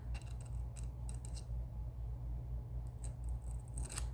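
Scissors snip away excess polymer clay in a series of close, light crisp clicks and cuts over a steady low hum, with no talk.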